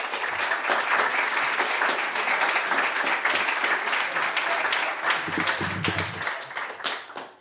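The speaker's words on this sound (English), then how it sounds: "So please give him a big round of applause" An audience at a talk on money mechanics claps for the speaker: sustained, even applause from a room of people that fades out at the close.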